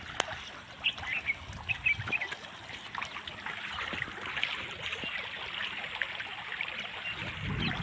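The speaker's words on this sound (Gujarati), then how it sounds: "તો અહીંયા પાણી જાય છે જુઓ." Water trickling and flowing in a small stream near a temple on a Shravan Monday, heard as a steady close wash, with birds and faint ducks in the background.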